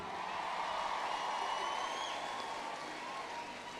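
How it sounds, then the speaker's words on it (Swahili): A church congregation claps together in sustained applause, a dense, fairly distant patter that fades slightly toward the end. "tupigie Yesu makofi"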